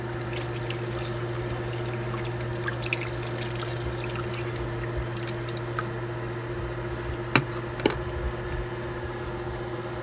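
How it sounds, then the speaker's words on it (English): Running water from a sink tap pours and trickles steadily while dentures and a toothbrush are rinsed, with a constant electrical hum underneath and a couple of sharp clicks near the end. "Rinse your dentures and also rinse your brush."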